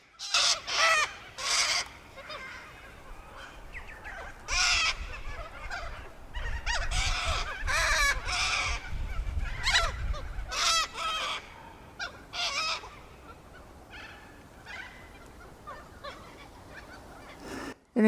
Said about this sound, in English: Always surrounded by noisy cockatoos around this area.